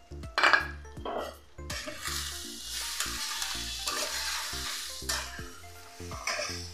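Green chilies go into a hot pan with crushed garlic for a lentil-and-egg curry, setting off a steady close sizzle and frying hiss, broken by repeated metal clinks of a spatula stirring against the pan.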